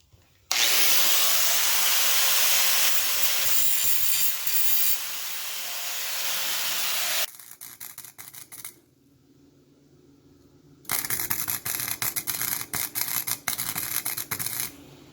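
Welding the exhaust of a Honda GL500 at a workbench: a loud, steady buzzing crackle runs for several seconds, stops briefly, then returns as a rapid, sputtering burst after a quiet gap.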